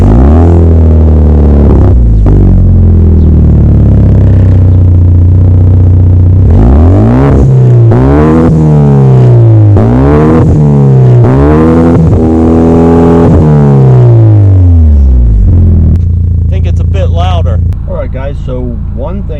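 A Genesis Coupe 2.0T turbocharged engine with performance upgrades, started after reassembly in a garage, idling loudly up close and then blipped through a series of sharp rising and falling revs before settling back, with a voice speaking briefly near the end.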